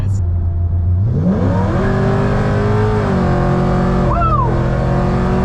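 A supercharged Ford Mustang accelerates hard, its engine note climbing loud and close, then dropping sharply on a quick gear shift and pulling again, with a brief supercharger whine near the end; no talking.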